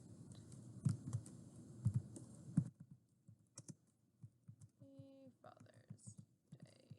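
Close computer keyboard typing enters text, with irregular clicking keystrokes in quick bursts and a couple of brief tonal chimes in between.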